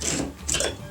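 Close, rough scraping and grinding of hard water deposits off a bathroom surface in short uneven strokes, with a few harsher bursts.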